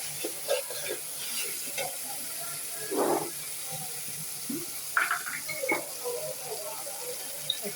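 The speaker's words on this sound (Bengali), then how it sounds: "আদা রসুন পেঁয়াজ পেস্ট একটু ভেজে নিলাম" Ginger, garlic and onion paste frying in a pan for chicken curry, a soft sizzle under faint stirring and spoon scrapes, with a couple of louder hissing bursts as ingredients or water hit the hot pan.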